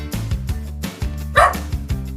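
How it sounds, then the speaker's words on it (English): A dog barks in a quick run of short woofs, fairly close and clear, with no talking over it. "Dog."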